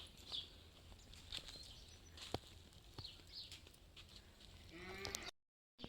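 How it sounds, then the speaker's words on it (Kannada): A lamb bleats faintly several times at a distance over soft outdoor ambience, with a few sharp clicks in between. "ಅಲ್ಲಿ ಕುರಿ ಪೂರ್ವಿ ಕುರಿ ಮರಿ"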